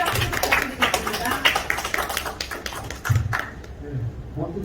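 Audience applause at a parking-problem forum in an Olympic memorial hall, a burst of scattered clapping that surges, fades and briefly swells again, mixed with room chatter.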